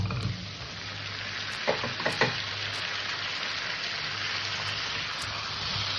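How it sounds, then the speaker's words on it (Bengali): Taro pieces frying in spice paste and oil in a pan, a dense continuous hiss of sizzling with a few brief spoon scrapes in the middle, steady and close. "গাঁঠিটা দিয়ে আমি তরকারিটা একটু কষে নেব"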